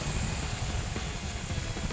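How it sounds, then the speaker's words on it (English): Kove 800X Pro adventure motorcycle engine on its stock exhaust in eco mode, a steady low rumbling drone with constant broadband noise, heard alone at moderate level without talk. "It snarls. The engine sounds fantastic."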